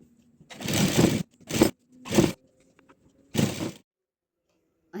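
A sewing machine stitching a cloth bag in short separate bursts of whirring, four runs of different lengths with quiet pauses between them, sounding close and fairly loud.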